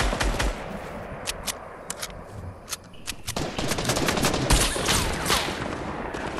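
Rapid gunfire in the video game Fortnite rattles out in repeated sharp bursts and single shots, fairly loud and continuous over several seconds with no talk.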